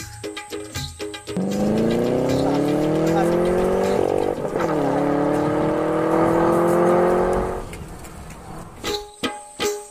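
A car engine revs up loudly and pulls away, a steady rising drone with slight tire noise lasting several seconds before fading, with brief clatter and bumps before and after.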